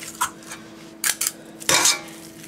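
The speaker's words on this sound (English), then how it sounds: "I'm just going to go ahead and start scooping these meatballs" Metal utensils clink against a pan while meatball mixture for a Swedish meatball bake is scooped in, giving a few short scraping taps and one longer scrape, close and clear with no talking.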